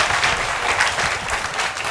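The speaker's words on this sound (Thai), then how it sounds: "ขอเสียงปรบมือให้ล่ามของเราในวันนี้นะคะ" Audience applause for an interpreter after an animation talk, steady and dense clapping from a crowd filling the whole span, moderately loud with no voices over it.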